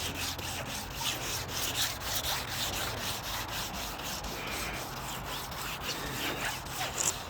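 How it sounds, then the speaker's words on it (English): Wet sanding of the paint on a 1957 Chevrolet Bel Air makes a steady, quiet rubbing and scraping sound that goes on without a break, as if heard from close by. "wet sanding at this point is not going to hurt."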